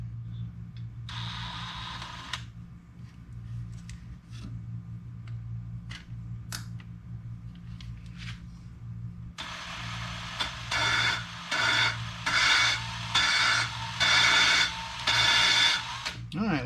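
Valves are lapped on the cylinder head of a Mercedes M117 engine from a 1973 R107. Soft handling knocks come first, then close, rhythmic bursts of gritty grinding repeat in quick succession.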